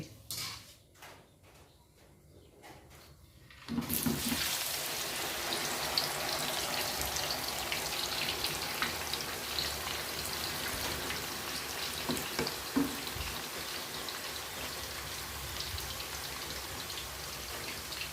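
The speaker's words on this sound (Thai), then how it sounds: "แล้วก็เอากล้วยลงทอดต่อเลย" Steady crackling sizzle of bananas deep-frying in hot oil, starting with a burst after a few quiet seconds and continuing loud and dense, with occasional pops.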